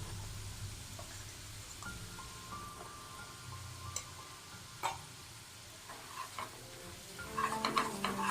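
Flour is stirred into garlic browned in butter in a pan for butter garlic chicken, producing a faint low sizzle with scattered spoon scrapes and taps that grow busier toward the end, with no voices.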